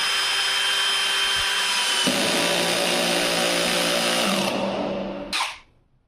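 A 20 V cordless impact drill-driver drives a 14 mm screw with a continuous high whine that drops in pitch as the screw seats, then cuts off with a short burst and fades to near silence.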